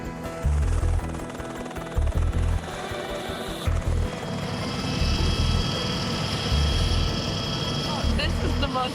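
A helicopter's rotor and engine drone loudly throughout, with rhythmic low chopping and a rising whine, while people talk over the noise.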